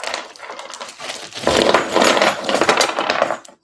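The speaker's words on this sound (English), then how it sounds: "First thing you gotta do is scatter your screws." Small metal screws and parts for an Armortek King Tiger tank model kit being scattered out, a close run of light clinking and rattling that swells midway and continues for a few seconds.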